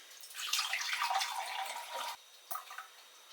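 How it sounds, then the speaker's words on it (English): Distilled water poured into a measuring jug set on a scale during cold process soap making: a steady splashing rush for about two seconds, then a brief second trickle, close and fairly quiet. "I add my distilled water"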